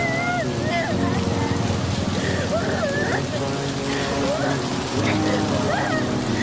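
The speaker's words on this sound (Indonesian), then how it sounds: "Malam itu, hujan deras turun." Heavy rain falling at night, a steady dense hiss throughout, with a narrator speaking over it and a faint music line beneath.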